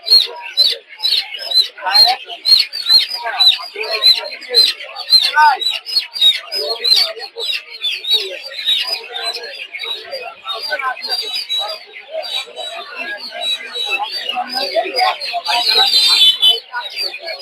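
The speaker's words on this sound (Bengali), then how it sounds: "দর্শক দেখতে পাচ্ছেন এই যে হচ্ছে টাইগার মুরগির ছোট ছোট বাচ্চা" Many small tiger chicken chicks at a poultry market in Narsingdi cheep in a dense, continuous chorus of high, rapid peeps, close and loud throughout.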